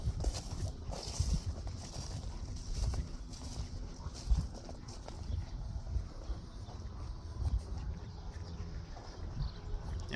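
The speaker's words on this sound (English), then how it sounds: "the cows came in for a little snack before milking time" Dairy cows walking in for a snack before milking time, their hooves clopping on a hard surface in an uneven, shuffling rhythm under steady outdoor background noise and wind.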